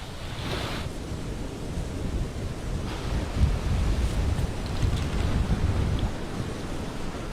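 Sea waves at a seaside villa, a steady roar of surf with rolling swells and heavy wind rumble on the microphone, loud and close, continuous with no voices.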